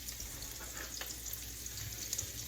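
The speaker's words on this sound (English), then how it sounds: "Let me just get all of these diced onions in here." Diced onions fry in a big pan for a ground sausage and rice skillet, giving a faint, steady sizzle with soft crackles and a light stirring scrape, no voices.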